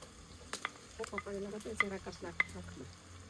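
Tomatoes go into a hot frying pan after onions and are stirred, giving close scraping and clinking strokes over a soft sizzle, with a few sharper knocks of the spoon against the pan.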